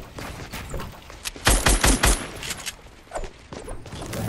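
Rapid bursts of gunfire in a first-person shooter video game, a cluster of loud close shots in the middle followed by scattered quieter shots.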